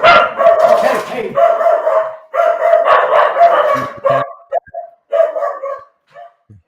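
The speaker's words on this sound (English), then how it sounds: "These dogs are going to bark." Several dogs bark repeatedly at a knock on the door, loud and close, in bursts over about four seconds and then in shorter yaps, with a person talking briefly near the end.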